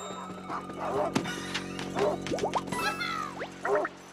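Cartoonish dog barks from Paper Mario: The Origami King, a few short yelping bursts spaced across the moment alongside other game sound effects and chirpy tones, fairly close and moderately loud.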